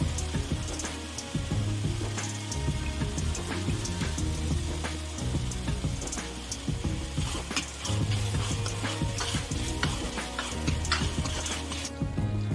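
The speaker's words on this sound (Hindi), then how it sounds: "अब प्याज को अच्छी तरीके से फ्राई करेंगे जिससे कि प्याज का कच्चापन निकल जाए।" Steady, dense sizzling and crackling of onions frying in a hot pan, continuous and close throughout, with no voices.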